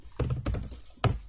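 Computer keyboard being typed on while writing code, three distinct close keystroke clacks at uneven intervals over a quiet background.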